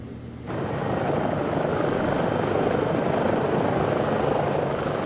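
Loud, steady medical rescue helicopter rotor and engine roar close by, starting slightly quieter and then holding a constant heavy drone.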